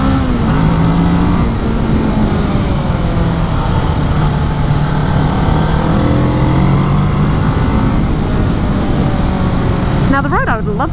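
A 2020 Kawasaki Ninja 650 motorcycle accelerates hard through its gears, loud engine revs rising in pitch and dropping at each upshift, with heavy wind rush throughout.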